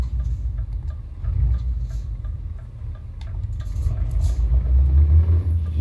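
A truck in Euro Truck Simulator 2 fitted with a Kurt exhaust gives a deep, bassy rumble with a fast ticking pulse that grows heavier and louder toward the end, with no talk.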